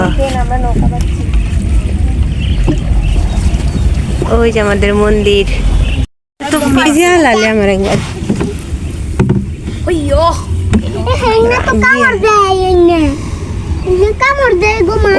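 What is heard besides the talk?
boat moving on water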